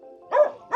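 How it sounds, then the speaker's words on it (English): Two sharp dog barks close by in a poor city neighborhood street, each short and loud with a brief pause between. "there's literally dogs everywhere. Like here, there's dogs here"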